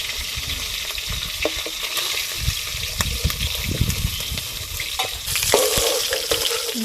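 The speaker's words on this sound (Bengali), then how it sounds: "একই রকমভাবে বাকি মাছগুলোও ভেজে নেব।" Tangra catfish pieces frying in hot oil, a steady close sizzle with bubbling crackle and a few soft stirring clinks, growing slightly louder and busier toward the end, no voices.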